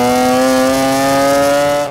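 A 2JZ-powered Toyota Altezza with a straight-pipe exhaust sits at a loud, steady, buzzing rev that is held close and unbroken, then cuts off abruptly at the end.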